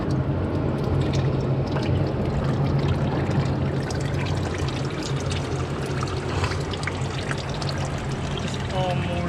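Water pours steadily from the drain plug of a 1951 Allis Chalmers WD tractor transaxle, a continuous close splashing trickle that runs the whole time, with someone speaking over it.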